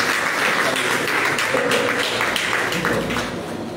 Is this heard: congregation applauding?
yes